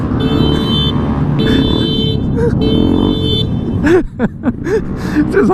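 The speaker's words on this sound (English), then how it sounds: "Just honks every time I make a left." A vehicle horn sounds in repeated long, steady blasts over road noise and engine rumble during a ride past parked cars including Miatas and a Tahoe, followed by someone talking.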